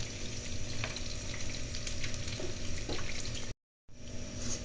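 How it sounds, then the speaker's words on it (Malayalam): Cashews and raisins sizzle in hot oil with a steady, close, crackling fry that drops out for a split second near the end; nobody speaks. "ഇപ്പം അണ്ടിപ്പരിപ്പും കുറച്ച് മുന്തിരിയും കൂടെ നമുക്ക് വറുത്ത് കോരിയെടുക്കാം"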